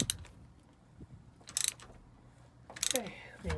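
An oil filter wrench on a 2019 Yamaha Waverunner EX Sport oil filter gives a few quiet ratcheting clicks and metallic clatters in short bursts against a faint background.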